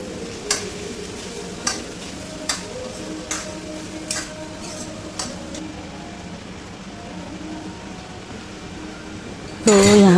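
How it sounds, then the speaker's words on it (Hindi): Okra frying in mustard oil with cumin in a home kitchen pan, a soft continuous sizzle under regular spatula scrapes about every second, ending in a louder clatter. "सब्ज़ी को अच्छे से फ्राई कर लेती हूँ"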